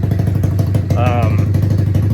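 A Kawasaki KLX110 dirt bike with a 143cc high-compression engine idles loudly and close by while warming up, with a rapid, choppy putter, while a person speaks briefly over it.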